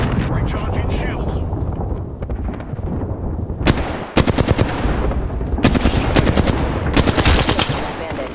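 Rapid gunfire bursts from the Apex Legends battle royale shooter, several loud volleys crackling over dense game noise and effects, with a player talking throughout.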